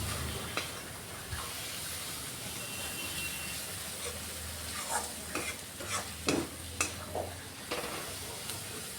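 Gram flour is stirred into spiced onion masala sautéing in a pan, giving a soft continuous sizzle with scattered scraping clicks of the spoon, faint and close, with no talk.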